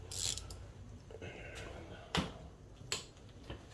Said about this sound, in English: So let's get the good old ratchet again.